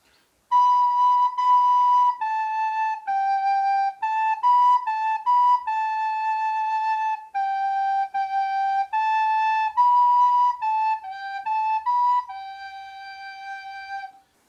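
A recorder-like wind instrument plays the children's song Lluvia as a simple melody of steady, clear sustained notes, heard close and alone with brief gaps between phrases.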